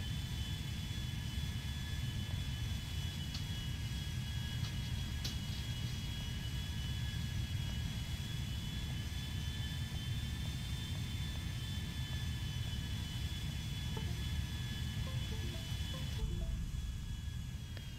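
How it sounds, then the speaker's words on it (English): Jet airliners running their engines at LSIA, the airport in the GTA video game, give a steady roar with a sustained whine on top. It holds level and continuous throughout, with no talk. "Plane spawning all over LSIA."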